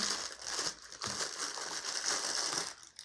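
Product packaging crinkles and crushes as it is opened by hand, with close, crisp rustling bursts and brief pauses, fairly quiet and with no voices.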